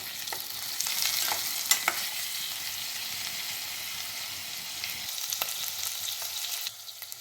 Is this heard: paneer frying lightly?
yes